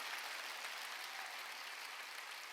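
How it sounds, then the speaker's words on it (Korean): A church congregation at a Wednesday worship service claps in a dense, steady round of applause that fills the whole stretch at an even level, with no voices over it. "깨달은 사람만 박수 치라고"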